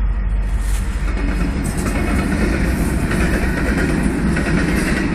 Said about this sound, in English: we got a train coming, folks